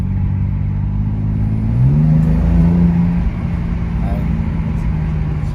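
BMW M3 F80 engine revving loudly up and settling back to a steady idle, a deep resonant drone that rises around mid-clip, with voices talking over it.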